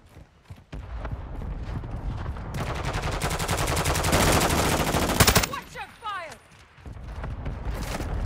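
Rapid automatic gunfire in Call of Duty: Modern Warfare II, a dense loud burst lasting a few seconds amid lighter shots and battle noise.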